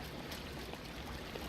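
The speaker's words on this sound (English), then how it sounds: "because water's going pretty fast" Fast-flowing stream in the video game Breath of the Wild, a steady broadband rush of water that stays even and continuous throughout, with no talk over it.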